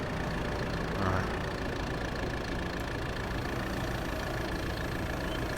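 A tractor engine idles in Farming Simulator 22, a steady low rumble holding at an even level throughout, with a voice talking over it.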